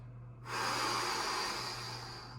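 A deep, slow breath during a yin yoga class, one long steady airy exhale up close over a low hum, no talk.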